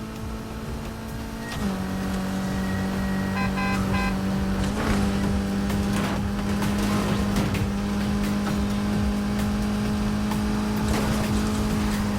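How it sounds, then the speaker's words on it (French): Engine noise from cars racing in the Need for Speed Heat video game: a loud, steady engine drone that shifts pitch as gears change, with whooshes and impacts layered over it and no talk. "Elle est dingue cette course, Anna!"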